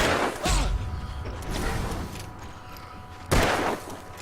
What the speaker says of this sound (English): maybe reload your gun fully before you resume shooting